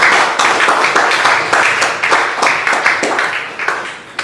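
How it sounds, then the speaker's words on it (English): Applause from an audience at a fisheries summit opening program, a dense steady patter of many hands clapping that holds for several seconds and thins slightly toward the end. "let us give Mr. Philip a round of applause for his presentation"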